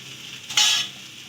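Chili sauce is stirred into noodles frying in a pan: one short, bright scraping swish over a faint background sizzle.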